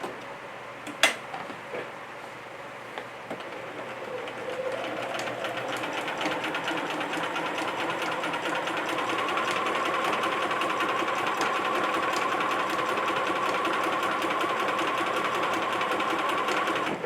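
A sewing machine stay-stitches along a curved edge of dress fabric, with a steady, fairly quiet mechanical hum and rapid ticking needle rhythm that runs continuously after a short start.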